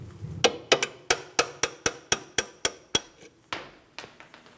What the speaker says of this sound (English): I'll just use my hammer and a punch. A couple light taps should work this out in place.